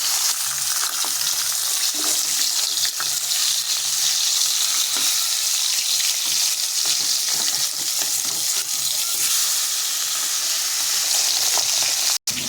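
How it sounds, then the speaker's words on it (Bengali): Steady, loud sizzling of fish frying in hot oil, a continuous bright crackle with occasional spatters and no talking. "মাছটা ভেজে আমি বেগুনটাও এই তেলে ভেজে নেব"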